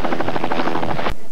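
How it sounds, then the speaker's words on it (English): A news helicopter flying, its rotor beating in a fast, loud, pulsing chop that continues steadily, then cuts off abruptly near the end. "Get your news from the air, only with Chopper 13."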